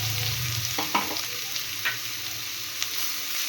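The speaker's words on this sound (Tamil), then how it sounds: "முந்திரி வறுத்த எண்ணெயிலேயே நம்ம துருவி வச்ச கேரட்டையும் இதில் சேர்த்துடலாம்." Grated carrot fries in oil left from roasting cashews, a steady close sizzle broken by a few soft scraping stirs of the spatula.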